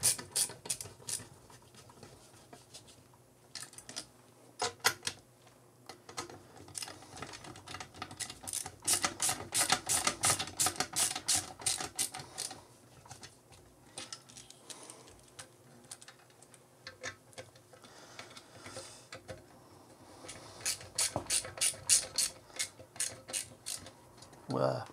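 Small nuts being screwed together by hand on the metal chassis of a Daiwa PS-120 power supply, rapid light metallic clicking and rattling in irregular bursts, close and fairly quiet.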